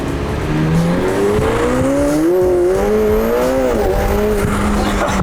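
A McLaren 750S supercar drives on the road, its engine a loud steady drone whose pitch climbs and sags as the revs change, with road rumble underneath.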